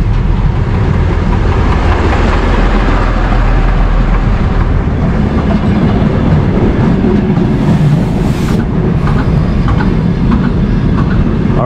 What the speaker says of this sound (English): right behind us, everybody, is the train we will be taking to Holovashivka.